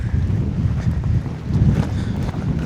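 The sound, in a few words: wind blowing outdoors while fishing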